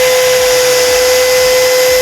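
A new Stanley cordless drill set to torque 7 drives a screw into soft wood, its motor a loud, steady whir that runs unbroken for about two seconds.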